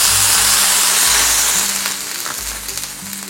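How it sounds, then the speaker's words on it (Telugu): Jowar dosa batter spread on a hot pan gives a loud, steady sizzle that hisses continuously and eases off slightly toward the end, with no voices. "పెనం బాగా వేడెక్కిన తర్వాత పిండి వేసుకోవాలి"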